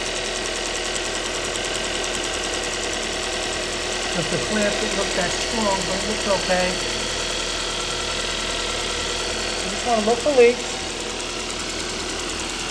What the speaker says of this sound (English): it should be idling pretty smooth